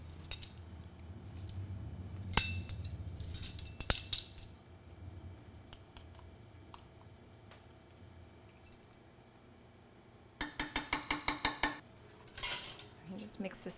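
A spoon stirs powdered turmeric into milk for a vegan golden milk latte with ginger, giving scattered clinks against the cup early on and a quick, rhythmic run of bright clinks near the end.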